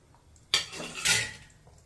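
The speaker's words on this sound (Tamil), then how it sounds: "அப்படியே லைட்டாக கிளறி விட்டுக்கிட்டே இருக்கணும்." Herbal pirandai oil with garlic and green camphor is stirred in a pan, producing two close metallic scrapes of a utensil against the pan with a short gap between them, then fading.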